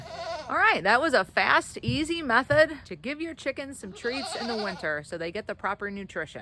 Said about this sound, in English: Sorry about the goat noise in the background.